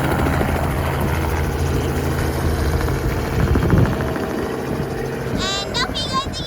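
A fish-spotting helicopter from a big tuna fishing trawler flies over the open Pacific, its steady rotor and engine drone sounding loud and continuous. Birdlike chirps appear near the end.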